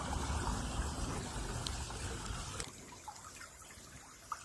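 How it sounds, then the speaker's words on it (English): A small creek trickles and babbles outdoors, a steady wash of running water for the first half that thins to a quieter, gentler dribble with a few faint drips and splashes. "I found a little creek."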